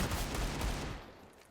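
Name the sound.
Desert Eagle pistol gunfire in a video game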